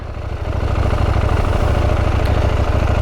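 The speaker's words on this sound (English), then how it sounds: "when you let the clutch out ever so slowly, and when you do, you'll even hear the bike wanting to move" A motorcycle engine idles and then swells steadily as the clutch is eased out and the bike starts to roll, a close, loud, rhythmic thrum with no voices.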